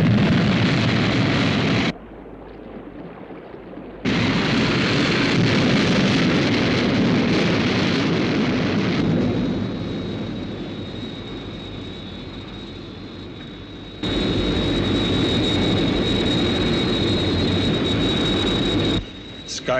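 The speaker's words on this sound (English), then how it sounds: "Signal Sky One. Immediate launch." Sky One interceptor aircraft launching in the UFO TV series, a loud jet-like roar in several bursts with brief drops between them, one section carrying a high whine.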